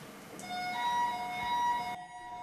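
A steady electronic alarm siren at a Cherkasy fire and rescue station sounds with sustained high tones, loud and continuous, then cuts off abruptly near the end.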